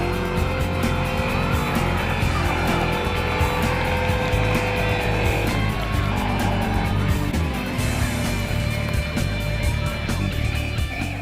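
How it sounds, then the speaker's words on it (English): A car at the Black Top Nationals car cruise revs hard and its tires squeal in a continuous burnout, loud and close, with engine roar and screeching rubber throughout. "cruising always means burnouts, but this time, it was legal"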